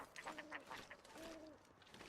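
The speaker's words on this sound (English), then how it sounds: "Oh, the birds! I was like, what the heck was that noise?" Birds calling in a snowy wilderness in The Long Dark, a few short hooting, cooing calls repeated at a moderate distance over quiet ambient wind, with no talk.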